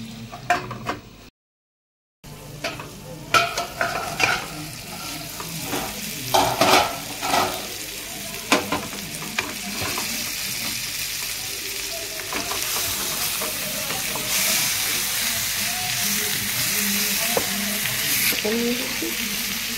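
Pieces of ash gourd frying in a pan and being stirred now and then, a steady close sizzle broken by scraping and clinking knocks that grows into a louder, denser hiss toward the end.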